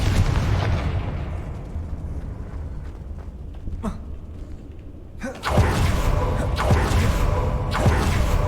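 A Confringo fire spell in Hogwarts Legacy bursts with a heavy booming blast, followed by rumbling fiery roar; a second powerful explosion erupts midway, loud and sustained with crackling debris.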